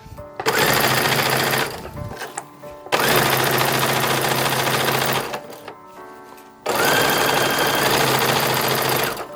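A period-style sewing machine stitching fabric at 32 stitches per inch, running in three long steady mechanical bursts with brief stops between, close and loud, no talking.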